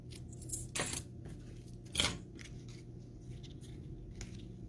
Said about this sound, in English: Let's cut a little piece of the ribbon.